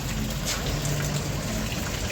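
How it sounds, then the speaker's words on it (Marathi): Water gushes out in a strong, steady broadband rush, loud and unbroken across the whole moment, with no voices over it. "किती पाणी टाकत ना"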